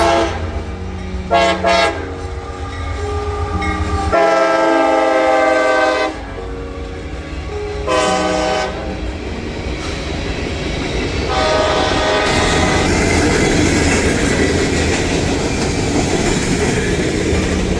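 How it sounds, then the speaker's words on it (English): An empty westbound coal train led by an AC44 locomotive passes, sounding several loud horn blasts before giving way to a continuous rolling rumble of wagons going by. "After the coal train passed"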